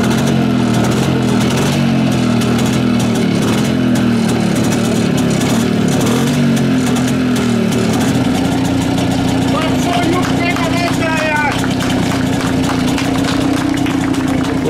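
A Csepel 250 motorcycle, a single-cylinder engine with twin pistons, idles steadily with a low, throbbing drone that continues throughout, close and loud, while people talk in the background.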